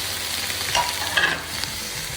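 Chopped tomato hits sautéed onion in a hot pan, setting off a steady, fairly quiet sizzle with a few soft stirring scrapes and brief crackles.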